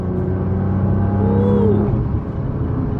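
A Nissan GT-R making over 750 horsepower drives with its engine loud and close, a steady rumbling drone that revs up briefly mid-way and settles, with no talk.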